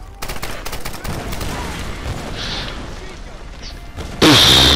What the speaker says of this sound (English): large explosions.